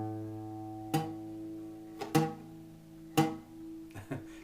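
Guitar string played with a finger not pressed fully down, giving a dull, choked tone: four short plucks, each a quick attack that dies away fast, under a faint sustained tone, no talking.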